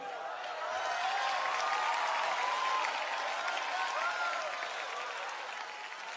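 A large church congregation applauds together in a sustained, dense wash of clapping that swells early and holds steady, with faint voices mixed in beneath it.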